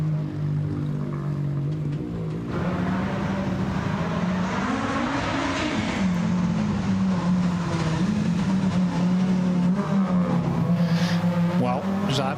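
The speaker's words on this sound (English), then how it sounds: "As the cars now make their way towards the end of the stage" Rally cars on a forest stage drive past one after another toward the finish line and timing beam, a loud sustained engine drone that rises and falls in pitch as each car passes, with a commentator talking throughout.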